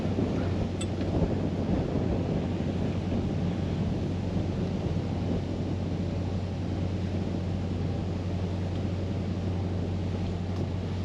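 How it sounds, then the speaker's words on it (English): Wind blowing over a boat cruising the Norfolk Broads, a steady broadband rush with a constant low engine-like hum underneath, continuous and fairly loud throughout with no voices. "The wind and the tide's going to take us up now."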